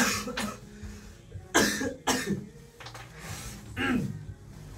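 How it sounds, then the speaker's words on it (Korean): Several harsh coughs close by, coming in uneven bursts with short pauses and some throat clearing between them. "이게 기침 나."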